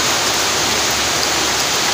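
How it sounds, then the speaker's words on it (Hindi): Heavy rain pours steadily over a rooftop, a dense, loud, unbroken hiss with no pauses or voices. "तो इतना बारिश हो रहा है।"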